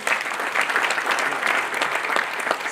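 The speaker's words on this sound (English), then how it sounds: "Can you give him a round of applause, please?" A crowd applauds at an SPE 2025 conference session, a steady dense wash of clapping from many hands that holds at an even level throughout with no voices over it.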